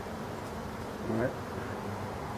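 Winter honeybees buzz softly at an open hive, a faint steady hum with one brief louder pass of a bee flying close.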